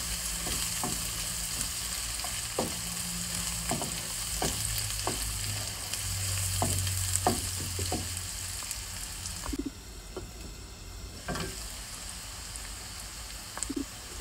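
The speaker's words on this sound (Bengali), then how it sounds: "এখন আমি মশলাটাকে খুব ভালো করে মিক্স করে দিলাম।" Spices including cumin powder fry in a pan for a prawn curry, a steady sizzle broken by irregular taps and scrapes of a stirring spoon, with a brief quieter dip near the end.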